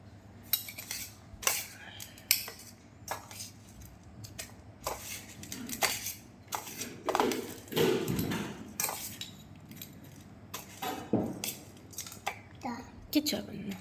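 Two spoons clink and scrape against a bowl while mixing ghoti gorom, a string of sharp metallic taps in an irregular rhythm, close by, with voices talking between them.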